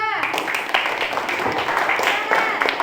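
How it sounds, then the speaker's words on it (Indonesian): Classroom applause for a student group breaks out, a dense patter of many hands clapping at once, with voices talking over it. "tepuk tangan untuk kelompok 2"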